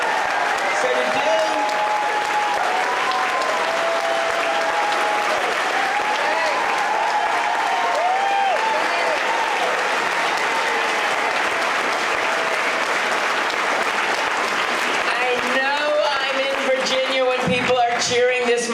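A town hall crowd applauds and cheers steadily and loudly for the whole stretch, with a voice over a microphone breaking through near the end.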